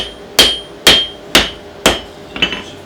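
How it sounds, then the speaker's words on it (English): Steel billet squeezed with a hammer at the start of forge welding while forging a K-tip gyuto chef's knife: four evenly spaced, sharp ringing metallic strikes, then a softer cluster of lighter taps, close and loud with no talk. "first step in forge welding is squeezing billet a little bit with a hammer"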